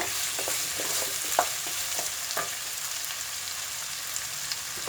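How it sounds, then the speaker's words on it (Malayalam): Potatoes and onions sauté in a pan as a potato and capsicum dry curry cooks, a steady close frying sizzle with scattered stirring clicks and scrapes throughout, no talking. "ഈ ഉരുളക്കിഴങ്ങ് വഴറ്റിനോട് കൂടി തന്നെ ഈ സവാള തന്നെ ബ്രൗൺ കളർ ആയിക്കോളും."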